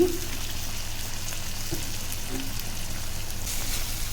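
Brinjal sautéing in oil in a pan, a steady, even sizzle and hiss that runs unbroken at moderate volume throughout.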